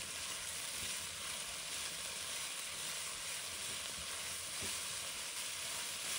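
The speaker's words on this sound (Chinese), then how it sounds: "再加入西兰花，继续翻炒均匀，让油脂稍微包裹西兰花" Broccoli stir-frying with oyster sauce and salt in a wok, a loud continuous sizzle with faint scraping stirs, close and unbroken.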